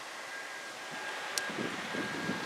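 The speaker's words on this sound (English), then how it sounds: "Probably can't hear me because of the wind" Wind blowing steadily across a microphone outdoors in a garden, a constant broad rush with faint rustling and small gusts, no voices.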